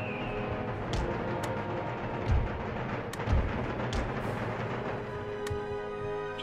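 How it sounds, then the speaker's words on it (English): Artillery fire in the strategy game Empire Total War, deep booming cannon shots at irregular intervals layered over a steady rumbling battle ambience, with no voices. "My guns are going to be over here, providing long-range fire support."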